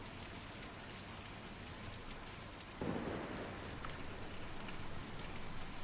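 Steady rain pours in the video game Kentucky Route Zero, a constant dense hiss, with a low rumble of thunder swelling in near the midpoint and lingering beneath the downpour.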